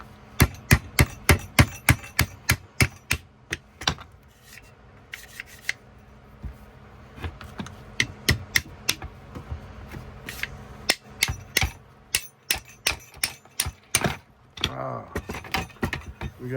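A hammer repeatedly strikes a stuck bolt on a Hakim rifle, giving sharp, close metallic whacks in quick runs with short pauses between the bursts.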